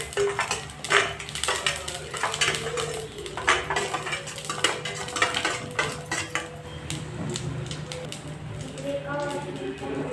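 Cumin and coriander seeds being stirred and roasted in a pan, with steady scraping and rattling of a spoon against metal, close and busy, under a speaking voice throughout.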